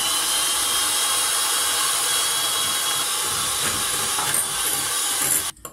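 A chocolate mixture boils in a microwave, giving a steady, loud hiss with a bubbling rush throughout, then breaking off into a few short knocks at the end.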